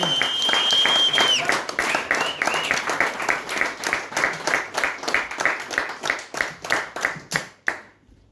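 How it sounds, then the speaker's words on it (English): Comedy club audience clapping in a steady unison rhythm, an early whistle riding over the first seconds, loud and close, then stopping abruptly. "In that case, Jasmine, start clapping now."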